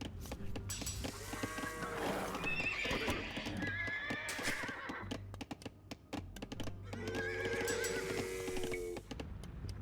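Several horses whinnying and neighing over a bed of clip-clopping hooves in Age of Empires 2, with overlapping calls from a group of cavalry and a steady low background hum.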